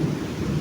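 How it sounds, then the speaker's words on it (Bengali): Steady rain with a low rumble of thunder, a dense, continuous wash of sound with no voices. "আজকে বৃষ্টি দিয়ে দিল ভালো মতো"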